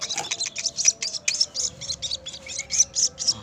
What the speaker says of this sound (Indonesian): Dan pakan anakan burung ruwak-ruwak atau burung bombok,